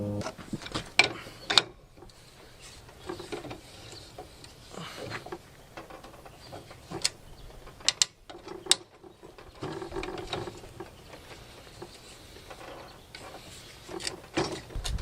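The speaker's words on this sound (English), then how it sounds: "The way it cuts threads into a hole is you turn it a little bit and then turn it the opposite direction" A thread tap turned back and forth to cut threads into a hole, giving scattered ratcheting clicks and short metallic creaks with pauses between turns, close up and with no talk.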